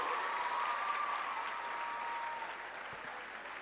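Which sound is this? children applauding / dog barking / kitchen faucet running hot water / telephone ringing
children applauding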